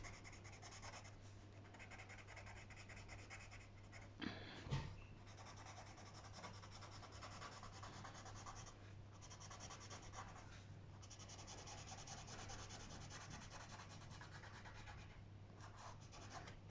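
A pencil rubs steadily across paper while colouring in a flying bird design. The scratchy, continuous shading is quiet and close, with a low hum underneath and a couple of brief knocks partway through.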